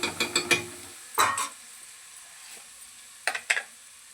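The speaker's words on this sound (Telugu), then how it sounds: "కొత్తిమీర, కరివేపాకు, ఇలా మొత్తం కలుపుకోవాలి." Coriander and curry leaves stirred through in a frying pan, giving a few soft scraping sweeps and light sizzles in short bursts, quiet and close with pauses between.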